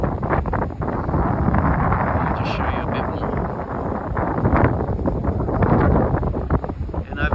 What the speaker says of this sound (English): I haven't been here when the wind is this strong, and you can actually hear the turbine working.